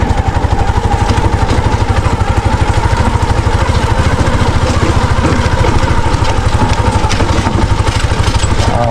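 A small engine runs close by near a solar water pump setup, a loud, steady rhythmic chugging with rattling clatter throughout and no voices.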